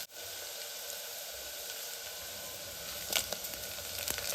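Chopped onion and garlic frying in hot oil for a Telugu amaranth dal, a steady close sizzle with faint crackles and a few brighter pops toward the end, no voices.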